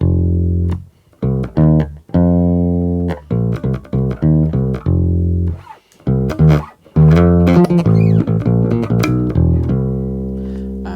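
A bass guitar plays a short repeating four-bar line of plucked notes, clear and upfront, with brief pauses between phrases.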